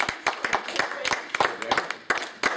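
An audience claps hands at a stand-up comedy show: a series of sharp, separate claps spread through the room, irregular and fairly close, with some murmuring between them.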